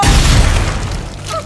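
A gory horror-story sound effect of a body bursting: a single loud, deep boom with a rough crackling burst that decays quickly.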